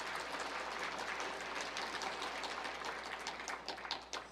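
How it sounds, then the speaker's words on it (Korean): Congregation clapping during a Sunday sermon in a church, heard as faint, distant, steady hand claps with a soft spattering texture, growing slightly sharper toward the end. "근데 참 다윗 위에서 박수 좀 한번 쳐줘봐."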